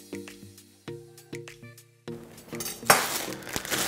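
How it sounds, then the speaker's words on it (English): Cooked onion and garlic are scraped from a pan into an Instant Pot, making a series of close, ringing metallic clinks and taps from a utensil against the pot, followed by a louder scraping sizzle near the end. "Now we're going to place the onion and garlic right into the Instant Pot."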